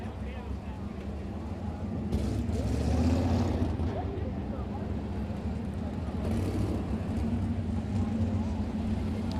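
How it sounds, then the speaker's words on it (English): Sprint car engines restarting at Kokomo speedway before a High Limit Sprint Series heat race, a dense, steady roar with a surge around the second and third seconds, heard under continuous commentary. "we'll get these cars fired back up and retry the start of heat race number 1"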